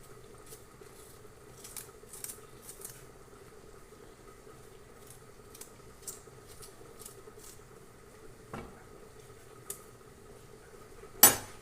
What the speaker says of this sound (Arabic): غادي درت الفلفل الحلوه غادي نقطعها ونديرها